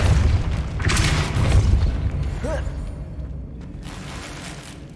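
A Depulso spell is cast in Hogwarts Legacy, giving a deep booming blast that fades into a rumbling tail, with a brief whooshing chirp partway through, loud and close.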